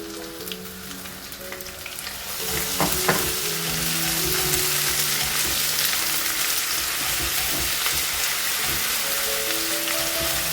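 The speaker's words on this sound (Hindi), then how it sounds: "इस पॉइंट पे हम लहसुन अदरक का पेस्ट ऐड कर देंगे, और इसको थोड़ा सा हम चलाएंगे" A steady, loud sizzle of garlic-ginger paste frying in hot oil, with a few clinks and scrapes of stirring early on before the hiss settles in.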